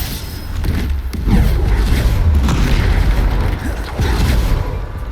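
Bombarda spell explosion in Hogwarts Legacy: a loud, deep boom with rumbling low-end thuds that sustain across the moment, mixed with combat noise and faint voices.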